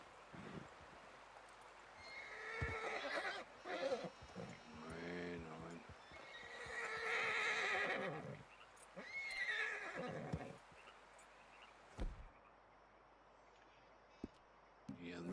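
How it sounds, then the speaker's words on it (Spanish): Horses whinny and neigh repeatedly in a Red Dead Redemption II hunting scene, with hooves clip-clopping among the calls and a few sharp thuds. Someone talks over part of it. Both the neighs and the hoofbeats are fairly loud and close. "caballo anda medio nervioso porque"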